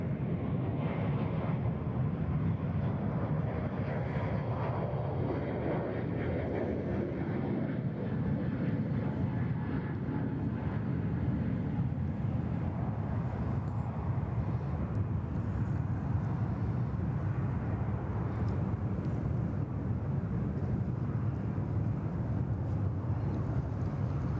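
Loud, continuous roar of an airliner engine at Sydney Airport, a steady broadband rumble that swells slightly midway and persists throughout, with no voices.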